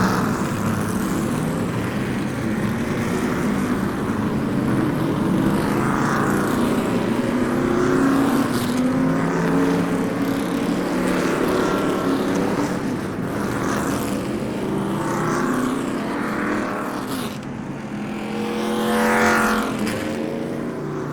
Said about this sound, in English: so we can get these cars rolling and out onto the track for drivers' introductions.